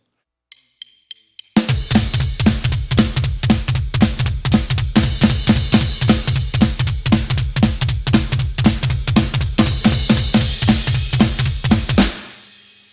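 Four light stick clicks count in, then a loud, close drum beat from a song kicks in with punchy accented hits over steady kick and cymbals, stopping sharply and ringing out.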